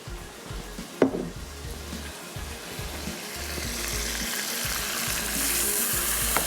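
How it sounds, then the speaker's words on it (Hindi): Chicken frying in a pan as sauce is poured in, giving a continuous close sizzle with a sharp splash and clatter near the start and steady crackling hiss afterward. "चिकन को करेंगे फ्राई। चलें चिकन हो गई फ्राई। इस स्टेज पे इस पर डाल देंगे ये इसका सारा सॉस।"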